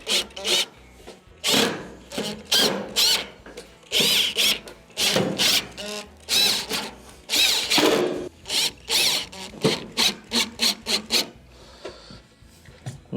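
A power drill drives screws back into the perimeter of a Whirlpool stove frame during a repair, whirring in short repeated bursts with brief pauses between, close and fairly loud, with no talking.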